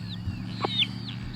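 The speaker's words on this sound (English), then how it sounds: "This is our mama hen" A mother hen on a backyard homestead gives a few short, soft clucks on a windy, rainy day, faint against steady wind noise, with a brief high chirp from a chick.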